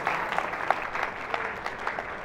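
A fashion competition audience applauds steadily as a contestant leaves, a dense, even round of clapping from a moderately sized crowd.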